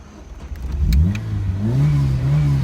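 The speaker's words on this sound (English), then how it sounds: "let's start the car and hear how she sounds" A modified 1980s Ford Escort MK3 engine cranks briefly, catches, and revs up loudly close by, the note rising and then settling into a rough, throaty idle.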